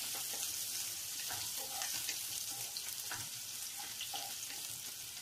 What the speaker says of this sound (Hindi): और अब इसी में हम अभी अपना प्याज भी डाल देंगे। थोड़ा हल्का से इसको दोनों को भूनेंगे।